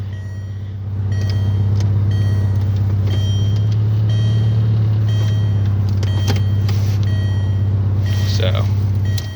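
A 1998 Volkswagen Beetle engine idles steadily and loudly after a cold start, a constant low drone running through almost the whole stretch with a few faint clicks and tones above it.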